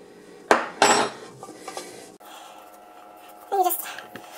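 Flour shaken around inside a buttered baking pan for cinnamon swirl banana bread, a few sharp metallic knocks and rattles in separate bursts with scraping between them, close and fairly loud.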